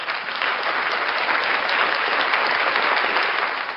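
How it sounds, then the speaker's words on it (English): Dense, steady applause from many hands fills a few seconds at an even, fairly loud level, with no voices over it. "Round of applause for those cops for not taking any guff from this idiot."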